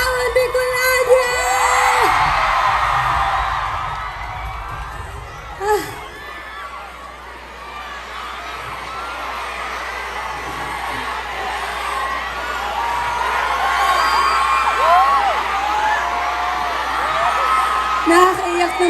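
Crowd at an outdoor Leni-Kiko campaign rally in Naga City yelling, whooping and cheering, a loud sustained roar of many voices with bursts of shouting that swells again toward the end.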